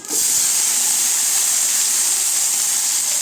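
Curry leaves and shallots dropped into hot oil for a Tamil dried-anchovy thokku burst into a loud, even sizzle that holds steady from start to finish, close up and with no talk.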